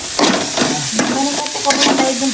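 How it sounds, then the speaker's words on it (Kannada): Ginger-garlic paste frying in a pan for egg gravy sizzles and hisses, with stirring scrapes on top and a voice faintly audible underneath. "ಇದನ್ನು ಆಮೇಲೆ ಬೇಕಾದ್ರೆ ಒಂದು 5 ನಿಮಿಷ ಚೆನ್ನಾಗಿ ಫ್ರೈ ಮಾಡ್ತೀನಿ"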